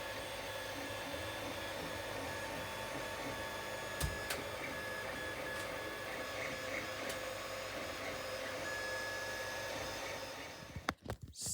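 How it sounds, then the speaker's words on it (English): A 3D printer prints a plastic casing, giving a steady, faint motor whir with soft stepping patterns and a few short clicks, and a knock and handling noise at the end. "So this is the casing being printed now."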